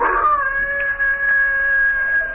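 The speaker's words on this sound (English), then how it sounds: "what's the matter with that hound dog of yourn? Doing a powerful lot of howling tonight, ain't he?" Hound dog howling at night, heard as a long, steady, mournful howl that holds one pitch and starts sharply. It is loud and close, and no talk covers it.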